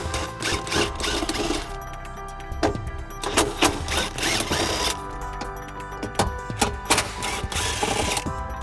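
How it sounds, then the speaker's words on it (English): A 10mm socket on a power driver removes screws from a metal bracket on a 2019-2022 Acura RDX, giving short, repeated whirring bursts separated by brief pauses, heard up close. "We're going to be using a 10mm socket to remove the screws."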